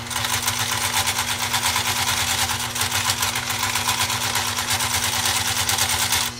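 A 1962 Singer Spartan 192K sewing machine stitches through two layers of roughly 8-ounce garment leather, giving a steady, fast, rattling mechanical whirr that runs close and continuous from start to finish with no talking.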